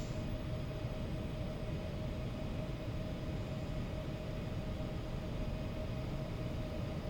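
An Embraer E190 airliner taxis in the X-Plane flight simulator, giving a steady, even engine roar with a faint high whine that holds unchanged throughout, with no voices.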